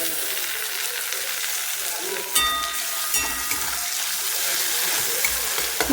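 Onions and tomatoes sauté in a pan, giving a steady bright hiss and crackle with a few sharp spits and stirring clatters, while a person talks faintly over it.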